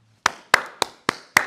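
Five sharp hand claps at an even, slightly slow pace, close and loud, each a crisp snap with a short decay, alone without any voice.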